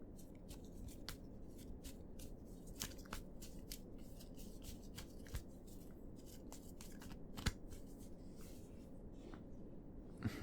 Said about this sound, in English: Then allow me to shuffle.